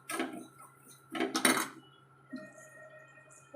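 Semolina (rava) roasting in a pan for rava payasam, heard as a metal spoon scraping and clinking against the pan in a few short bursts with quiet gaps between them.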